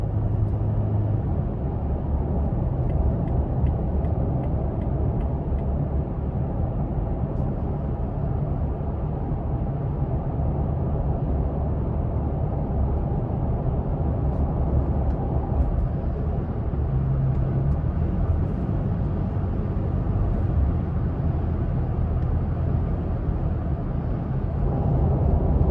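A 2020 Toyota Tacoma TRD Off Road pickup drives on a test drive, heard as a steady, loud cabin rumble of engine and road noise that stays fairly even the whole time.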